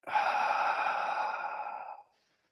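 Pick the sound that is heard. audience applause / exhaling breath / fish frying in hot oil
exhaling breath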